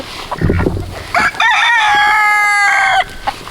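Free-range rooster on a farm with emus and ducks gives a loud, close cock-a-doodle-doo crow, preceded by a few short clucks and low grunting calls.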